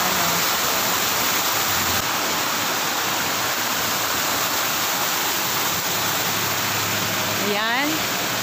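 Flowing water at a scenic tourist spot in Tainan, Taiwan, a steady rushing wash like a waterfall or stream that runs throughout, with a brief rising whistle near the end.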